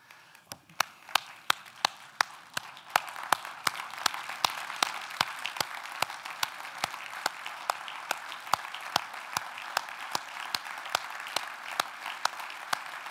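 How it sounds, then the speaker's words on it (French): An audience at a New Year's greetings ceremony in Louviers rises and applauds the Ukrainian resistance, a long, steady round of clapping from a hall full of people, starting thinner and swelling to a sustained dense patter with sharp individual claps standing out. "je vous propose qu'on se lève et qu'on applaudisse la résistance ukrainienne"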